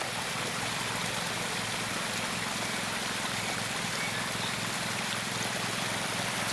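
Water flows steadily from three blocked roadside drains, a constant rushing trickle that holds an even level throughout with no one speaking.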